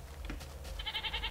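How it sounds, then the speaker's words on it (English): A Minecraft goat bleats in a short, close burst of nasal cries, fairly quiet against a low game background. "There's a little goat! Oh, little goats!"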